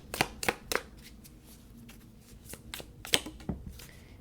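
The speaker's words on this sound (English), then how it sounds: "I'm just going to quickly move the cards around just a little bit." Oracle cards being shuffled and moved around by hand, a run of soft, quick papery slaps and swishes, close and fairly quiet, with no talking.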